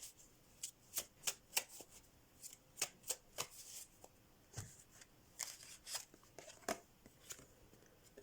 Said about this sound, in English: Let's get my love oracle deck for the messages.